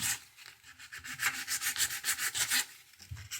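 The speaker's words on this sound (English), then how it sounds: "We started sanding this down a little bit." Hand sanding scrubs lightly across the foot of a 130-year-old antique wooden table, a quick rhythmic run of soft rasping back-and-forth strokes, close and fairly quiet.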